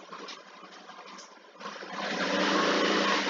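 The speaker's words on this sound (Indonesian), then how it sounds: "ada suara motor" A low engine drones steadily, then swells louder and rougher halfway through as if a motorcycle draws closer, with no voices.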